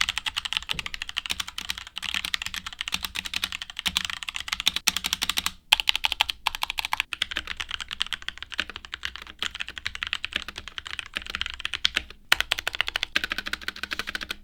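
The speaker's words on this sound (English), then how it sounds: "this keyboard is freshly lubed and, well, it's sounding a lot more fuckier than it did before" Rapid, steady typing on a freshly lubed Keychron K4 mechanical keyboard, a dense run of close clicky keystrokes with brief pauses, heard alone with no talking.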